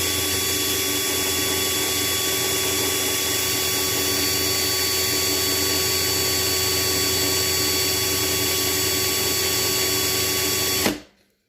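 A drill with a 1/16 inch bit bores into the post of a Matchbox or Hot Wheels toy car, a loud, steady motor whine with constant tone that runs unbroken before cutting off abruptly at the end.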